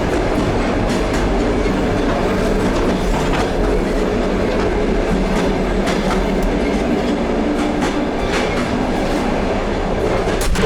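Rumble and rhythmic clickety-clack of a moving passenger train heard from the connecting space between two wagons, loud and continuous with sharp metallic clanks, no talking.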